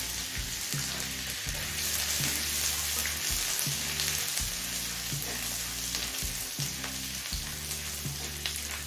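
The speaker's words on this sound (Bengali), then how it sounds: "আদা রসুনটাকে একটু হালকা করে ভেজে নেব" Chopped ginger and garlic fry in white oil, a constant bright sizzle over a low rhythmic rumble from the stove, close and steady, no one speaking.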